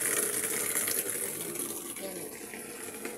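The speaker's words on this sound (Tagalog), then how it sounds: "Mag-igib ako ng tubig." Water gushes steadily from a tap into a gallon container, a continuous bright splashing rush that eases slightly in pitch as it fills, with a voice speaking faintly underneath.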